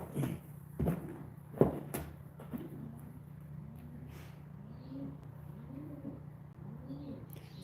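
Repeated soft cooing of a pigeon or dove at a fishing spot, a steady series of low hooting calls at a moderate distance, preceded by a few sharp knocks and thumps nearby.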